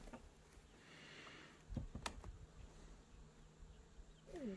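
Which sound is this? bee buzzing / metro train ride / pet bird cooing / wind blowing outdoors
bee buzzing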